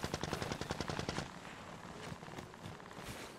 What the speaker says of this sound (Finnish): Joku ampuu ihan tästä.